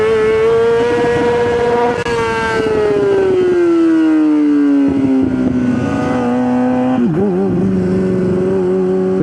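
Motorcycle engine revving hard while the bike lifts into a wheelie. Its loud, whining tone sweeps down through a long pull, then wobbles and dips near the end, close up with no talk.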